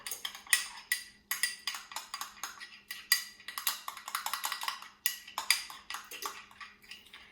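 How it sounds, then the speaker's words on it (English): A spoon stirs cinnamon into maple syrup in a small dish, making a quick run of close clinks and scrapes in an irregular rhythm, with short pauses between them. "And I'm going to mix that in the maple syrup."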